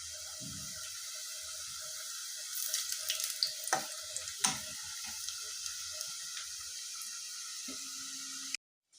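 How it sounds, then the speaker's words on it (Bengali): Puri pitha fried one by one in oil make a continuous hissing sizzle, with a few louder pops and crackles in the middle before it cuts off abruptly at the end. "তো এই যে আমি একে একে সবগুলো এভাবে ভেজে নিই।"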